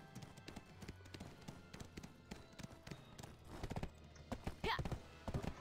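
Steady clip-clop of horse hooves in Black Desert Online, repeated taps with a faint whinny-like flourish near the end, over low background music.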